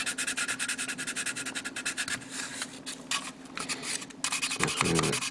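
Sanding on a plastic model kit part for a Bandai Macross build, a close, steady run of rapid rubbing strokes with a few brief pauses and a scrape near the end.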